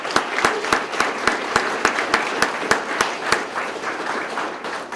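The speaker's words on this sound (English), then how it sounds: "Let's give yourselves a round of applause for that." An audience at a police swearing-in and promotion ceremony applauds, with sharp, distinct claps standing out over a steady bed of crowd clapping.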